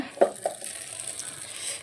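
Fried ingredients for a chicken sukka masala are tipped into a steel mixer jar, giving two light, quick clinks near the start, then a quiet kitchen backdrop.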